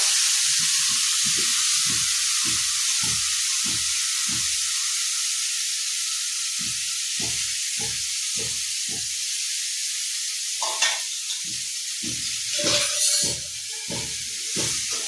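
Ground masala paste for a Mithila-style rohu fish curry fries in oil over medium heat. A steady, bright sizzle hisses throughout, broken by a regular run of soft knocks from stirring.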